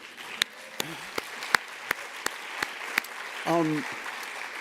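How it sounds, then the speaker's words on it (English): Sparse, scattered handclaps for the artists ring out at a Miami-Dade County Art in Public Places anniversary celebration, a few distinct claps spaced apart with a brief voice near the end. "please let's give a round of applause for the artists"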